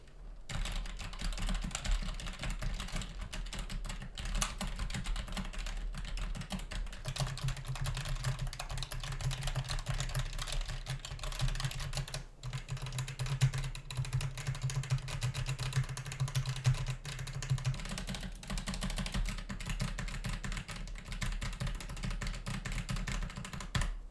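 Steady clicking of a computer keyboard typed on continuously with WASD gaming keys, with occasional sharper mouse clicks, heard fairly quietly against a constant low background hum.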